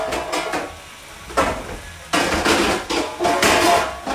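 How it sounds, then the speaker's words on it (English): Metal pans clatter and bang in a kitchen while someone rummages through cookware, with loud irregular crashes and scraping bursts close by. "Well, with you looking for pans,"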